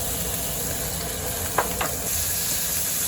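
Beef sizzling as it fries in heated olive oil seasoned with salt and pepper, a steady close crackle with a couple of brief stirring clatters midway and no talking.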